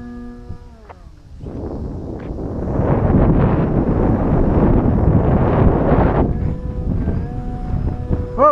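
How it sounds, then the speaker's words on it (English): Gusting wind roars and buffets the microphone for several seconds, with a few faint tonal calls before and after the gust. "Whoa, getting windy out there."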